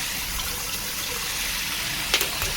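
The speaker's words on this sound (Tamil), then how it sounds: "கிட்டத்தட்ட முக்கால்வாசி தண்ணி நிறைஞ்சிருச்சு" Water pours steadily into a container, filling it to about three quarters for a liquid waste-decomposer preparation for a terrace garden. The gushing is continuous and broadband, with a brief clink near the end.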